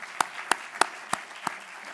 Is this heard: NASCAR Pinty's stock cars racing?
no